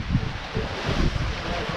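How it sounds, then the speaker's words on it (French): Wind buffets a microphone aboard a sailboat crossing the sea from Palamós, Spain, to Marseille at sunset, a steady gusting rush mixed with water wash and a little speech. "Le vent est toujours bien présent, la mer aussi, forcément."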